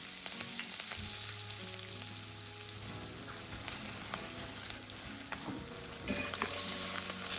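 Chicken with garam masala and coriander sautéing in a pan sizzles steadily, with occasional scraping stirs and a louder burst of frying near the end, heard close with no talk.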